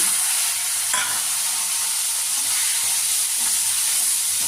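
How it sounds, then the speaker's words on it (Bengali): Fish frying in smoking-hot oil in a pan, a dense and constant close sizzle with occasional stirring scrapes, no voices. "আমি তেল দিয়ে দিলাম মাছটা আমি ভেজে নেব"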